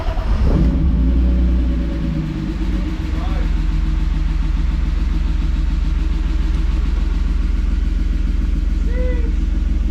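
The rebuilt engine of a drift car fires up and keeps running, a loud, close, steady rumbling idle with a brief rev near the start and a voice speaking over it.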